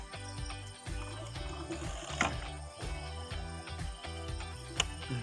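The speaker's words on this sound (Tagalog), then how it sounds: "Tanggalin yung mga tornilyo" Screws come out of a Kawasaki Fury motorcycle fairing with a tool, a run of repeated close ratcheting clicks and mechanical grinding in uneven bursts, with a few sharper metallic knocks.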